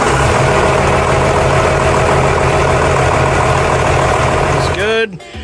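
Case 621 loader engine idling steadily after a fuel injection pump replacement, a loud, even diesel drone that holds throughout before cutting out near the end.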